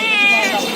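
A cat at the Tongi bird market on a rainy day gives one loud, close, drawn-out meow that lasts under a second.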